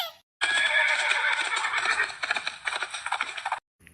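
A horse gives a loud, close whinny lasting about three seconds, shrill at first and then breaking into shaky, pulsing snorts before cutting off abruptly.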